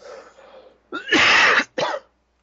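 A short, hoarse cough bursts out after a soft murmur, followed by a second brief cough, close and loud, with nobody talking.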